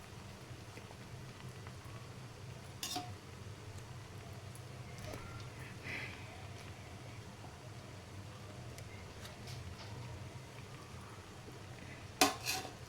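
A utensil clinks and scrapes against a pan while fried eggs are lifted out of oil, a few faint knocks over a quiet background hiss, ending on one louder clatter.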